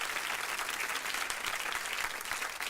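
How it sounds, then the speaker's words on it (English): A studio audience claps throughout a casual talk radio show, a dense and continuous wash of many hands at a moderate, slightly distant level, with no speech over it. "round of applause"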